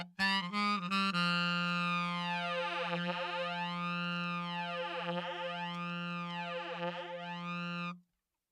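Saxophone run through a flanger effect: after a few short staccato notes, one long sustained tone sweeps in a slow, repeating whooshing cycle, then stops abruptly, fairly quiet with no talk.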